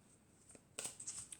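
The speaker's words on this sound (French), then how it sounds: "je vais prendre une carte de l'archange Michael" Oracle cards being shuffled, a soft brief riffle that turns into a quick, crisp flutter of cards near the end, faint and close with no speech.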